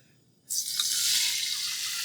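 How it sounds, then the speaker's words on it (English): Chicken broth poured into a hot pan, a sudden bright rush of liquid that starts after a short quiet pause and then holds as a steady close hiss and splash. "We're going to put a little chicken broth in here."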